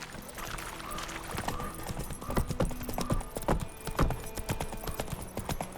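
Steady clip-clop of Roach's hooves, Geralt's horse in The Witcher 3, a close rhythmic trot running throughout over a quiet outdoor backdrop.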